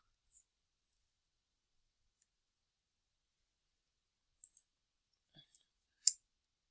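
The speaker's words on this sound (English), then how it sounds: "we're just going to go ahead and hit the R on the keyboard" Single and paired keyboard key presses for placing a rectangle in design software, heard as a few sharp, quiet clicks spaced over near silence, the last one loudest.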